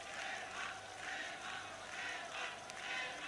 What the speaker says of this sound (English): the Olympic Stadium giving its applause to the Greeks